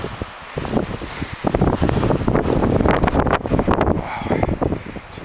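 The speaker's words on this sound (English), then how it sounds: "It's quite windy up here." Strong gusting wind buffets and roars across the microphone on a snowy Colorado mountaintop, rising and falling continuously with no voices.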